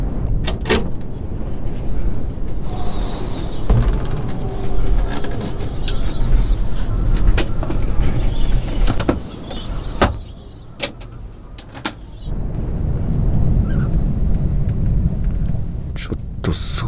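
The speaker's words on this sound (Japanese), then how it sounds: "風がすごくて、今車が揺れててちょっと怖いですね" Low rumbling buffets and creaks from inside a camper van parked beside the sea as strong wind gusts push against it, with sharp knocks scattered throughout and a quieter lull midway.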